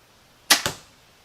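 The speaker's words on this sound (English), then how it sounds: "Now this is our 350 grain test arrow, so we'll see how loud this thing is and how the vibration is with this lighter weight arrow" An Obsession FXL compound bow shoots a 350 grain test arrow: a sharp double snap from string release and limb vibration, close and loud, decaying quickly into near silence.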